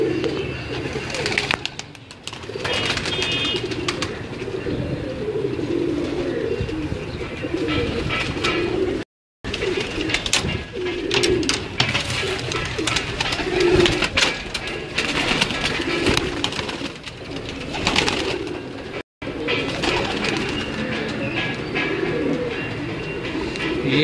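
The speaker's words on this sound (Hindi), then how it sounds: "ये जी कुछ एक गोल्डन कबूतर हैं अपने" Golden pigeons kept on a home rooftop coo steadily in soft, repeated low calls, several birds close by, continuing with brief gaps throughout.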